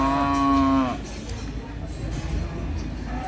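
A cow at a county fair lets out one strong, close moo lasting under a second, then a steady wash of fairground crowd noise and distant chatter takes over.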